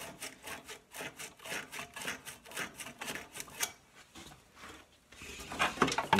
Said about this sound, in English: Right where the coil is too, you sand that gently.